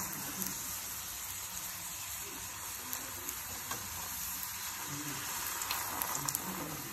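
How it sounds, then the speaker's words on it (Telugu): Puris dropped one at a time into hot oil deep-fry with a soft, steady bubbling sizzle, faint and even throughout, with occasional small pops and crackles. "ఆయిల్ హీట్ అయిపోయింది కదా. ఇలా ఫస్ట్ ఒక్కొక్క పూరీ వేసుకోవాలి."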